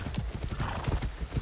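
Horse galloping in the video game Far Cry 6, a quick run of rhythmic hoofbeats heard up close and on its own.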